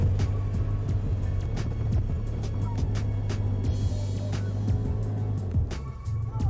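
A dune buggy engine drones steadily with a low hum as it pulls up a driveway, mid-distance and fairly constant, punctuated by frequent clicks and rattles over the motor.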